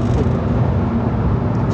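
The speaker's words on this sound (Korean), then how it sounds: "추월하고 싶어서 가속 페달을 끝까지 밟는다." A Hyundai Casper 1.0 turbo is floored from above 80 km/h, giving a loud, steady engine and road drone that holds evenly throughout without any clear rise or break.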